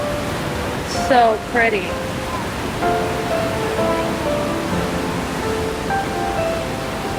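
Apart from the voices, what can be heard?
Avalanche Creek flowing water along hiking trail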